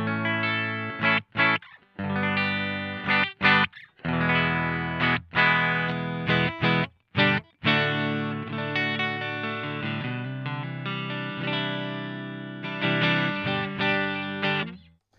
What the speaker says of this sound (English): my clean tone is my Fender Stratocaster.